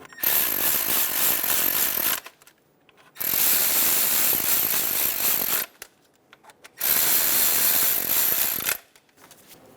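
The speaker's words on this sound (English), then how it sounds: "Install the bolts for the coils. Snug the bolts down." Ratchet tightening the ignition coil bolts on a 2003-2007 Honda Accord 3.0L V6 during a valve cover gasket job, three loud whirring bursts of about two seconds each separated by short quiet gaps.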